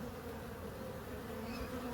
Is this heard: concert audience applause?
no